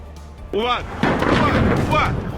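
Bombing in Tehran produces a heavy burst of blast noise with a rolling, rumbling tail that fills the middle of the clip. Raised voices and shouts cut in before and after, and the scene sounds loud, chaotic and close.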